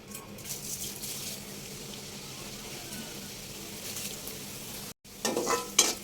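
Flattened rice (chira) frying in hot oil, a steady close sizzle with stirring scrapes, a brief break, then a louder burst of crackling as more goes in.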